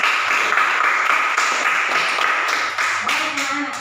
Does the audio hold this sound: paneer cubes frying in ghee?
no